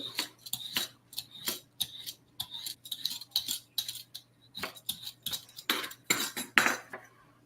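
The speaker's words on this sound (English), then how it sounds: "I'm going to take my potato peeler. I'm going to peel it." A potato peeler scraping the skin off a chayote squash: a rapid series of short, crisp rasping strokes, closely miked and fairly quiet, repeating in an uneven rhythm over a faint low hum.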